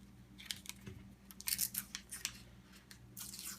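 Scissors snip through the packaging of a stick of unsalted butter in a kitchen, giving a few quiet, close, crisp cuts and rustles in quick succession.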